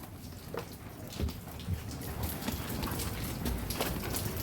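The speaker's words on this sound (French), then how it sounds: "En plus, il pleut." Rain falling outdoors in Cameroon, a steady patter with scattered louder drops hitting nearby surfaces, moderately quiet and with no talking.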